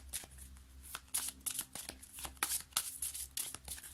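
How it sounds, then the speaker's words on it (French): Tarot cards shuffled by hand in a quiet room, a steady run of close, crisp riffling flutters with soft slaps and no talking. "On va prendre une carte, hein, du tarot du bien-être"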